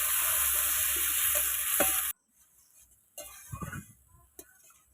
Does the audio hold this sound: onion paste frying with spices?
yes